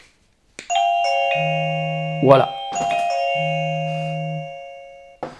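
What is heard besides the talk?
ieGeek Bell J10 wireless video doorbell chime ringing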